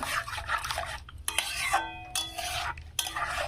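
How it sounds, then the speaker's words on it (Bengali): A spoon stirring a milk mixture made from powdered milk in a metal pot for Bengali chusi pitha, with rhythmic scraping and clinking strokes against the pot, close and steady. "ভালো করে এইভাবে নেড়ে নেবো"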